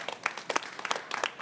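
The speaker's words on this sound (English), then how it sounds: "Please give that a round of applause, everyone" A conference audience at a COP29 agriculture session claps after a Food and Agriculture Day greeting, sparse, scattered hand claps at moderate distance, soft and uneven.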